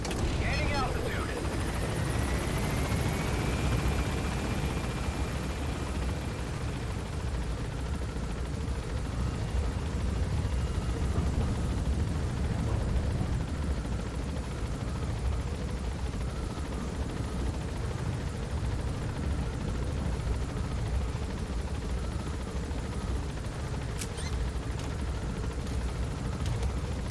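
Helicopter from the Metal Gear video game climbing into the air, a steady rotor and engine roar that stays loud and continuous throughout, with a rising whine near the start and speech over it.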